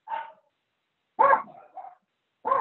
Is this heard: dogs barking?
yes